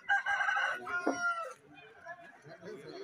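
At a busy poultry market, a rooster crows loudly and close in one drawn-out call, followed by softer clucking and chatter from the surrounding birds.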